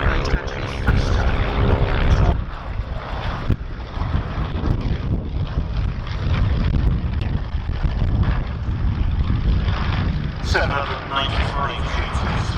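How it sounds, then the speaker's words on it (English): A vintage 130 horsepower propeller aircraft passes overhead at the Shuttleworth airshow, its steady engine drone mixed with strong wind buffeting the microphone and a voice talking throughout. "Little aircraft above you, it's 130 horsepower, so over half."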